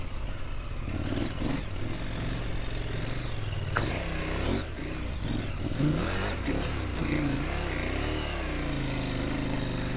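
A 2023 KTM 890 Adventure motorcycle ridden off-road on a dirt track, its engine droning and rising and falling under throttle, mixed with steady wind and tyre rumble, close and continuous.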